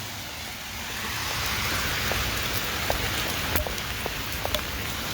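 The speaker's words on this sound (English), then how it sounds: "I'm running through the rain." Heavy rain pours down outdoors near a parking area, a dense continuous hiss with scattered sharper drops and taps, loud and steady with no voices.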